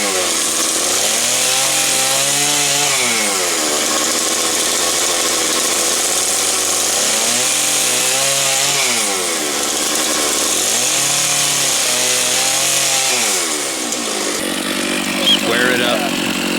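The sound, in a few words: chainsaw cutting a mortise for armrests in wood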